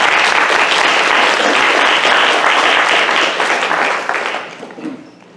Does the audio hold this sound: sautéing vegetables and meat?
no